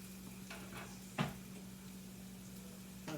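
Onions sautéing in a pan while turkey burgers cook, a soft steady sizzle running throughout with a single sharp utensil clink near the start and faint kitchen clatter, no talking.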